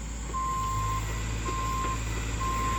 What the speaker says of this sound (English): The occasional excavator beep